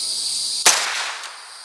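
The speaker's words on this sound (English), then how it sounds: "I am shooting a nice group high and to the left" A single sharp crack from a Winchester Wildcat SR .22LR rifle at a shooting range cuts through steady insect-like background hiss, then decays quickly.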